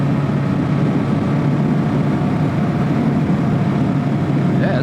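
Yamaha Maxim 700 four-cylinder cruiser motorcycle engine running steadily at highway speed around 4,500 RPM, a continuous loud droning hum with wind rush and no pauses.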